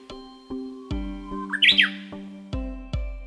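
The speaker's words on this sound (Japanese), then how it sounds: "ウグイスはその鳴き声からホウキドリとも呼ばれています" A Japanese bush warbler (uguisu) gives a brief, bright, rising call over a slow series of regular low knocks, heard fairly quietly.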